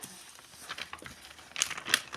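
A paper surprise package is opened nearby, giving soft, steady crinkling and rustling of paper, with two sharper crackling bursts near the end.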